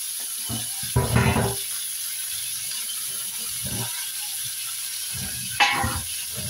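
Large bata fish frying in a kadai, giving a close, steady hot-oil sizzle broken by a few short louder bursts of spattering and clattering, with no voices.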